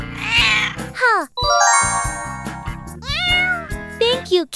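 A cat meows several times in quick succession, loud and close, with drawn-out rising and falling cries, along with a faint jingling.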